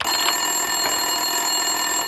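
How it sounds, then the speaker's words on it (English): A desk telephone rings continuously in an office in the video game Max Payne 2, a steady, bright, bell-like trill that fills the clip with no speech. "Winterson's phone was ringing."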